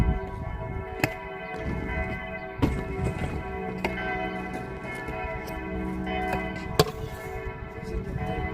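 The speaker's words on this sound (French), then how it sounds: "Les cloches de l'église qui est là-bas." Church bells ring from a distance, with sharp, spaced strikes over a steady wash of resonant tones.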